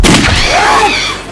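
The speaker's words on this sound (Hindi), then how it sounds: "ये तो गोली की आवाज है।" A single loud gunshot-like boom bursts out at the start and decays into a ringing tail, heard up close with no talk over it.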